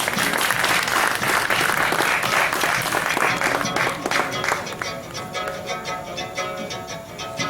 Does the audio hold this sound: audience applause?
yes